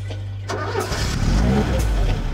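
A tuned Opel Manta 1600 with a sport camshaft, sport pistons and a larger cylinder head cranks and catches, settling into a loud, rough, lumpy idle that rumbles steadily close up.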